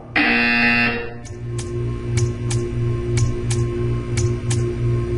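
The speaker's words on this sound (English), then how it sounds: "You will hear a buzzer." A loud buzzer in the video game Portal 2 sounds for about a second, then a series of sharp electronic clicks repeats at a steady pace over a low hum.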